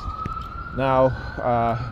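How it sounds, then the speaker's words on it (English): A police siren wails in two short rising bursts over steady background hum, heard fairly close with a gap of noise between them. "they will use the police sirens"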